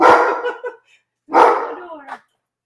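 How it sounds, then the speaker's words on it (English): A house dog barks at the front door in two loud, close bursts, each a rough bark trailing into shorter yips and a whine-like tail, with a brief silence between. "My dog starts barking."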